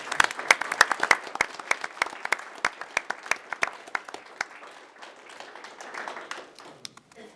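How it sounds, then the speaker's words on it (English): A small group applauds at a city council meeting, with fairly close, distinct claps in a quick irregular rhythm that thin out and fade toward the end. "Let's give them all another round of applause."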